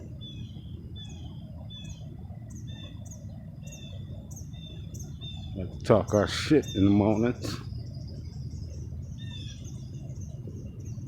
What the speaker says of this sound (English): Y'all hear the crows.